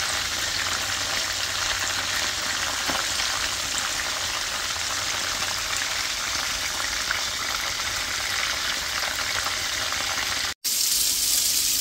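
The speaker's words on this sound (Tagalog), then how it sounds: "Mag-fry na tayo until golden brown." Cornstarch-coated chicken pieces frying in oil until golden brown, a loud, steady, dense sizzle close by that runs without a break until it cuts off abruptly near the end.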